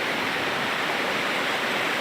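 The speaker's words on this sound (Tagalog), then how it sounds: "sobrang lakas ng tubig ngayon" Strong rushing water current pouring loudly and steadily, a dense broadband roar like a waterfall or swollen stream, close by and continuous with no voices.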